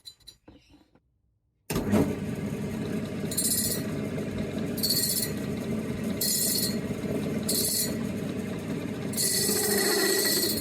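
A hose slip on a car's cooling setup being shaved down for clearance with a tool, a harsh rasping and grinding that comes in repeated bursts over steady mechanical noise after a brief quiet start.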